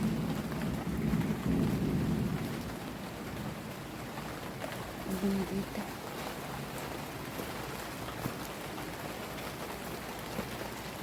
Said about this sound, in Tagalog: Medyo malakas na ang ulan.